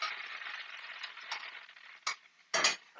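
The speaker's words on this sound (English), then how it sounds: "You can hear it sizzling." Honey garlic sauce sizzles steadily on salmon in a hot pan, a continuous close crackling hiss with a couple of sharper bursts as it is stirred or moved near the end.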